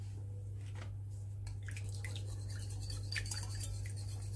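Eggs, oil, sugar and vanilla are beaten together in a bowl, a close, steady scratchy mixing with small clinks over a low electrical hum.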